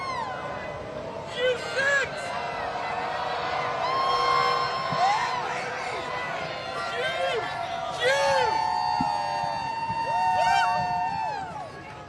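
An Auburn Tigers crowd gathered for the Tiger Walk before an NCAA Final Four game cheers, whoops and shouts, with rising and falling yells over steady crowd noise and a nearby voice talking throughout.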